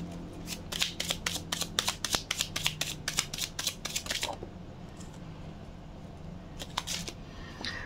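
A deck of tarot cards is shuffled by hand in quick riffling bursts of sharp flicks close up, followed by a quieter pause and a few more soft card snaps.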